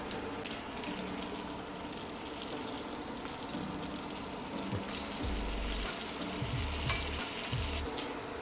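Cooked farfalle pasta stirred with olive oil, soft wet squelching and shuffling over a light steady background hiss, close and quiet, no voices.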